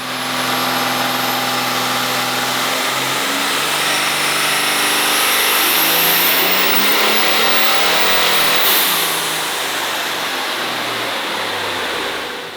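Race truck engine on a nitrous street build, running loud and steady with a sustained rev and a gentle rise and fall in pitch, close and continuous throughout.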